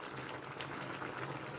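Beef simmering in a pot in its own released juices, a steady low bubbling that runs continuously and quietly throughout, with no talk over it.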